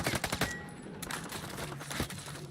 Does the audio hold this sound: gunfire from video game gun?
yes